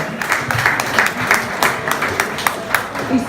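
Continuous crowd applause at a pitch night, with scattered sharper claps throughout, fairly loud and close, with some voices mixed in beneath.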